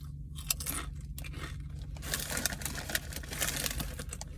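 Doritos Collisions chips, Intense Pickle and Cool Ranch, crunched up close inside a car, with repeated crisp bites and chewing that grow denser in the second half.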